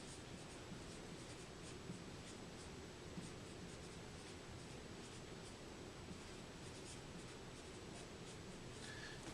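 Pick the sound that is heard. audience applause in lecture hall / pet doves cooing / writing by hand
writing by hand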